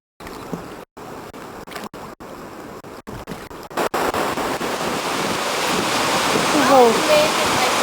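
Salmon River water rushes through rapids, a broad, continuous roar that starts choppy and broken by gaps, then swells into a steady loud wash with wind noise over it.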